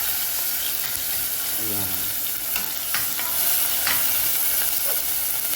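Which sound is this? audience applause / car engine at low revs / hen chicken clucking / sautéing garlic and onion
sautéing garlic and onion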